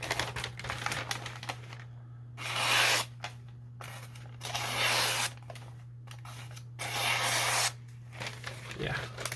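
A sharp Kansept Kryo knife with an S35VN blade and titanium handles cutting through material: three drawn-out slicing rasps, close and fairly loud, separated by short pauses over a steady low hum.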